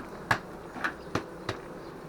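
Faint buzzing of Buckfast honeybees under four sharp knocks spaced evenly about half a second apart, a hive frame being tapped to shake the bees off.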